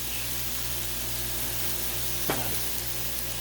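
Turkey meat for a stir fry sizzles on a hot Blackstone griddle: a dense, steady frying hiss with a brief sharp crackle partway through, close and alone with no voices.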